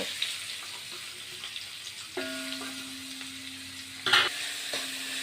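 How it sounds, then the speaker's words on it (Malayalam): Chopped onion, garlic and curry leaves sauté in oil for a homestyle beef curry, a soft, close sizzle with intermittent spoon scrapes and a brief clatter near the end, no one speaking. "ഇനി നമ്മൾ ഇതിലേക്ക് അരിഞ്ഞ് വെച്ചിരിക്കുന്ന സബോള വെളുത്തുള്ളി വേപ്പില എല്ലാം കൂടി ചേർത്ത് വഴറ്റിയെടുക്കണം"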